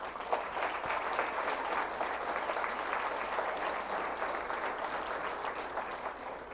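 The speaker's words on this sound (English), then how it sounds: "I'd like to give a round of applause to the Heartland staff who helped to organize this night" Sustained audience applause at an anniversary benefit dinner honoring the Heartland staff, a steady dense clapping that holds at an even level throughout with no talking over it.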